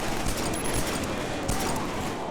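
Revolver gunfire in the video game Killzone 3, a dense stretch of loud shots and battle noise with several sharp cracks standing out, no talk over it.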